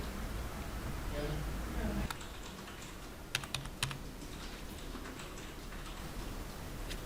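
Fingers tap a code on a computer keyboard, a handful of quiet, irregular clicks over a faint background hiss, with a voice speaking softly at the start.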